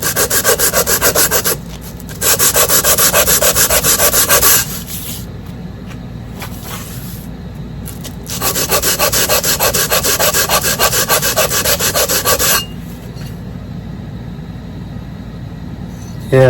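Hand sanding scratches out of a flat surface on a 1953 outboard motor part makes loud, close rasping strokes in long continuous bursts with pauses between them.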